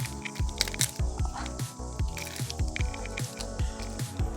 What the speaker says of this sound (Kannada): ಹೀಗೆ ಕೈ ಹಾಕಿ ಬೆಳಿಬೇಕು ಆವಾಗ ತುಂಬ ಈಸಿ ಆಗ್ತದೆ ಮೀನು ಕ್ಲೀನ್ ಮಾಡಲಿಕ್ಕೆ